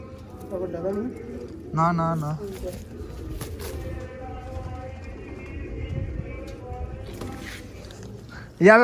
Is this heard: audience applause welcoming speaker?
no